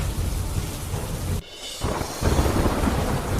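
Heavy downpour in Bhavnagar with thunder rumbling, a loud, dense roar of rain that briefly drops away before surging back even stronger.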